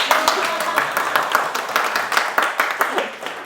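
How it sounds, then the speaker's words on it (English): Audience applause at a Toastmasters speech meeting, a fairly dense patter of clapping hands that swells slightly toward the end, with some voices mixed in. "I should want some applause,"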